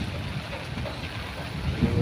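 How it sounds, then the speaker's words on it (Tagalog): Strong storm wind during heavy rain in Manila roars as a steady, broadband rush with buffeting gusts against the microphone, continuous and close throughout. "Guys, so lakas ng hangin."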